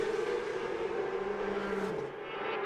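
Supersport motorcycles race at Circuit of the Americas, a dense high-revving engine roar held steady and loud, with one machine's pitch shifting as it passes and the noise easing slightly at the end.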